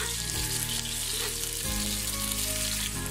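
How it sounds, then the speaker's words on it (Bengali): Onions frying crisp in a pan for Dhakaiya beef tehari, a loud, close, continuous sizzle and crackle heard alone. "পেঁয়াজটাকে আমি একদম কড়া করে ভেজে নিচ্ছি, মশলাগুলোকে ভালোভাবে ভাজছি।"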